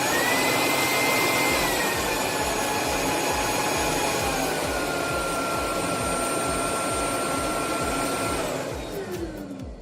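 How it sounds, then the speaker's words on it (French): A BISSELL Icon 21V cordless stick vacuum's motor roars steadily with strong rushing air blown from its rear exhaust and a high whine, then winds down near the end. "un bruit de soufflerie très présent, avec effectivement pas mal de vent qui est éjecté à l'arrière de l'aspirateur"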